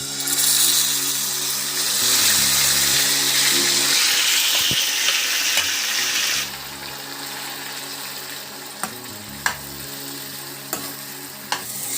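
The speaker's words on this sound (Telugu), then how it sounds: "ఇందులోకే కాసింత నెయ్యి తీసుకొని యాపిల్స్ తురుము అనేది మీడియం" Grated apple fries in ghee over a medium flame, giving a steady, loud sizzle that eases partway through, with occasional sharp clinks from stirring.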